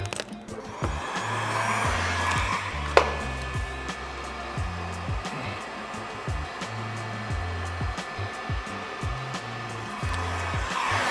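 A heat gun blows a steady, loud whooshing drone while warming vinyl wrap on a Tacoma hood, running continuously up close with one sharp tap partway through.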